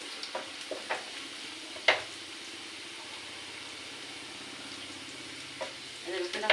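Chopped garlic and onion fry in a pan for chowmein, a soft steady sizzle with occasional sharp clinks and stirring knocks of a utensil against the pan.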